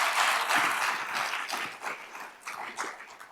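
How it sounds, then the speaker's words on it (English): An audience applauds at a government keynote event, a burst of clapping that is loudest at first and then gradually thins and fades, with a few scattered claps near the end. "we can give that a round of applause"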